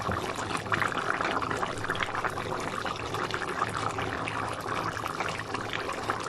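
Thickener is poured into a simmering pork asado filling for siopao, making a steady, continuous liquid rush that stays even and fairly loud for several seconds.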